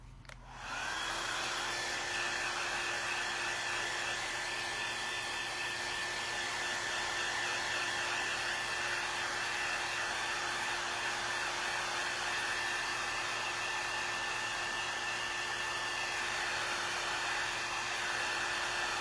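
A hair dryer switches on and runs steadily at close range, a loud constant whooshing whine drying paint on a wooden yard stake flag.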